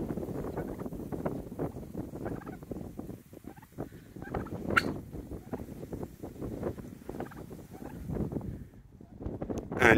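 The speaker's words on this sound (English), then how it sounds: "less than about 50 feet from the cabin there is turkeys" Wild turkeys gobble repeatedly in rapid, rattling bursts, close by near a farm cabin, with light wind noise in the background.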